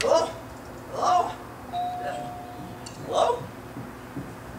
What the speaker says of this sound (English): Oh, that's the doorbell, dear, not the telephone.